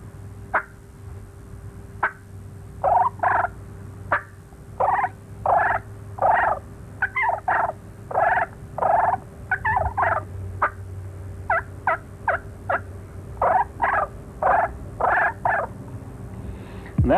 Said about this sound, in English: then you give him them little soft, little seductive clucks and purrs